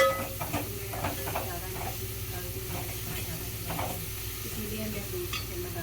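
Masala powder sizzles and fries in a hot pan while it is stirred for rajma, with a steady hiss and scraping stirs throughout. The sizzle stays close and continuous.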